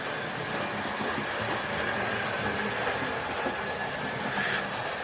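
A Hornby, Airfix or Mainline model of a heavy early-1900s freight steam locomotive runs steadily around its track, giving a continuous whirring motor hum and fine rail rumble. No one speaks over it.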